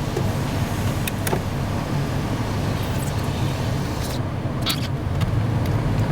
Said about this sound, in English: Now I've got to drive down, and I'm driving a 1992 Ford Sierra with no power steering